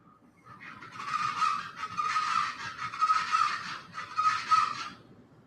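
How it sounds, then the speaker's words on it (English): Several honking bird calls come in four short bursts over faint background noise, fairly close and clear. "Maybe you can hear the birds here."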